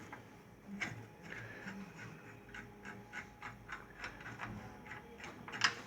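A ratchet wrench tightens a shock absorber mount bolt on a Fiat Palio during a strut mount replacement, giving faint, quick mechanical clicks in short repeated bursts over low background noise, with a sharper click near the end.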